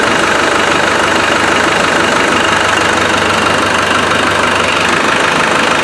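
A Land Rover 300Tdi diesel engine idles close by with a slight misfire, its low rumble running evenly with faint irregular knocks and an occasional stumble in the rhythm.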